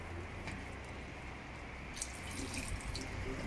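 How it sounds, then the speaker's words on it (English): Hot water poured into a cooking pot of Zulu chicken, a soft steady trickle and splash that grows brighter partway through, heard faintly against background noise. "we'll add a little bit more water"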